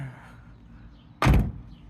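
The door of a 2008 Nissan 350Z GT with a newly installed handle is shut once, a single solid thunk and short rattle after quiet room noise, close and fairly loud.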